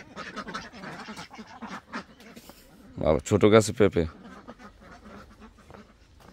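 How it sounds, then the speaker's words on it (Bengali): Ducks on a rural homestead quack in a loud, close burst of rapid calls midway, with a person talking before and after. "এই যে হাঁস আছে এখানে"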